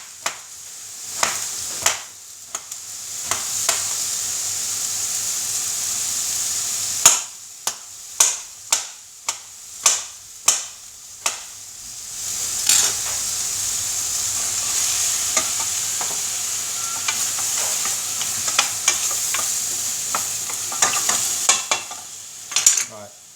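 Aubergine and mixed vegetables for lasagne frying in a pan, a constant bright sizzle punctuated by a quick run of sharp spatula taps and scrapes, close and fairly loud.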